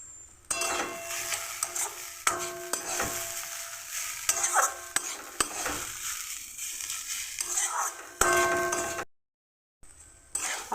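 Spices and asafoetida frying in a pan while being stirred, with steady sizzling broken by repeated scrapes and clinks of the spoon against the pan, close and fairly loud, cutting out briefly near the end.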